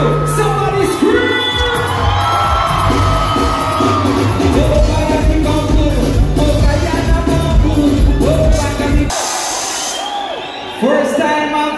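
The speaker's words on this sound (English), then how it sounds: "If that is true, somebody scream!" A concert crowd at a live show screams, whoops and cheers loudly under amplified music, with a shouting voice over the top, before the noise briefly drops away and then swells again.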